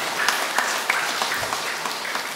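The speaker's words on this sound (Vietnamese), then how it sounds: "Chúng ta nổ một tràng pháo tay nữa để cảm ơn" Applause rings out in a parish church during a Catholic wedding Mass to thank the choir, with individual claps audible as a moderate, slightly distant patter.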